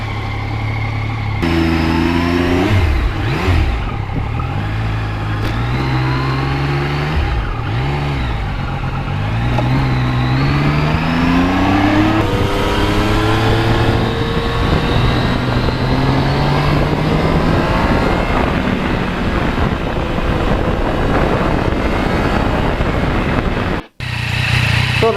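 Motorcycle fitted with a Givi tank bag on a short test ride, engine revving and shifting up through gears with rising and falling pitch, steady wind and road noise throughout, close and loud.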